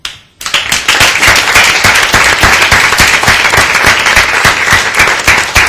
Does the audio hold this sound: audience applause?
yes